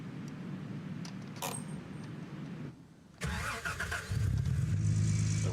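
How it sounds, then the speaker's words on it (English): Vehicle engine in the Gold Rush video game cranking and failing to catch, then a louder engine burst, heard alone and close with no talk. "Did you hear it like not start?"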